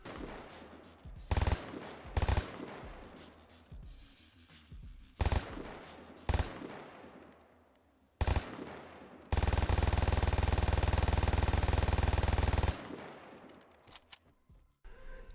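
An MG3 machine gun fires in the video game Vigor: short staccato bursts come first, then a loud sustained stream of automatic fire for about three seconds, followed by a few scattered shots.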